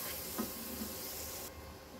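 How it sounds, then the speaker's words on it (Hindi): Spice masala with yogurt fries in a pan, making a faint, soft hiss and sizzle over about two seconds with no talking. "इसको मैं अच्छी तरह इसमें भून लूँगी"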